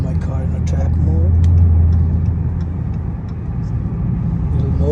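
A Dodge Scat Pack with a 3-inch straight-pipe exhaust, mid and rear mufflers deleted, cruising in track mode gives a loud, steady low rumble that swells and eases slightly, with someone talking over it.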